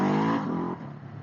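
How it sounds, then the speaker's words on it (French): A Ducati Hypermotard 950 motorcycle engine gives a brief, close, throaty drone that drops in pitch and fades slightly as it eases off. "Ah, j'adore le bruit de cette moto."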